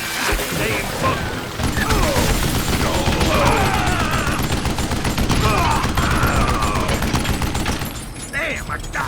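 Rapid, dense gunfire and crashing impacts from the Wild West shooter Call of Juarez Gunslinger fill the scene, loud and continuous throughout, with a voice shouting over the shooting.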